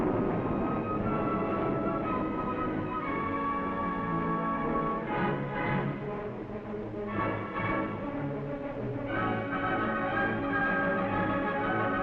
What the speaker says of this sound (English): Two Terrier surface-to-air missiles are fired at a drone.